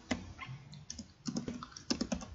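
Keys clatter on a computer keyboard in quick, irregular bursts of typing while entering syntax into SPSS statistics software, close and fairly quiet, with no talking.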